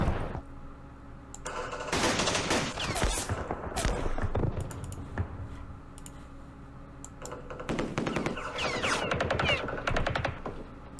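Gunfire from the Campaign Series Vietnam war game at the Battle of Hue, heard as bursts of rapid, clicky automatic fire in several clusters with short pauses between them, loud and close, with no talking.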